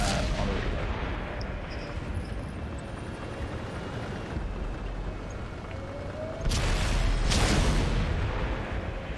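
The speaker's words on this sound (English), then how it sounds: "Does manage to take out one of OWS's tanks, the IS-7" Tank cannon fire during a competitive tank game match: heavy booming shots over a dense, continuous battle roar, with a louder burst of blasts toward the end.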